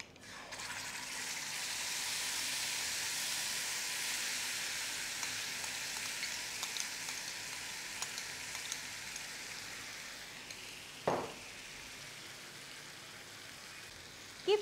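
Fennel seeds crackle in hot oil before a curd mixture goes in, a steady dense sizzle running throughout with a brief louder clatter near the end.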